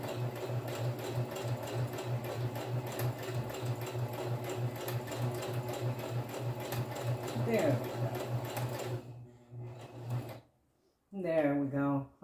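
A sewing machine stitches a bead mat in a steady, fast mechanical run for about nine seconds, then stops. A short voice follows near the end.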